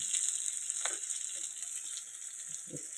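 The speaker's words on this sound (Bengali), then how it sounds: "টমেটোগুলো দিয়ে দিব।" Tomatoes added to a hot pan give a steady, fairly quiet frying sizzle that runs throughout, with a few faint stirring clicks.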